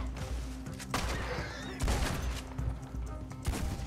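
Repeated gunshots ring out in a Red Dead Redemption 2 firefight, several sharp loud bursts spaced through the moment, with background game ambience and no talking over them.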